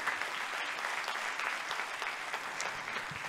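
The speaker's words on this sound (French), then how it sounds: "Je vous propose d'applaudir Doris parce que vraiment, merci à toi." An audience applauding at a campaign launch meeting: sustained, dense clapping from a crowd, steady and moderately loud throughout, with no voices over it.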